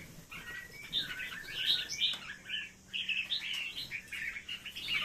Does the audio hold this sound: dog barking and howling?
no